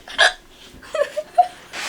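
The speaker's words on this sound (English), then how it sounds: "Trying to scare the hiccups out of this boy." A boy hiccups several times in quick, uneven succession, sharp short gulps close to the microphone, with a faint breathy sound between them.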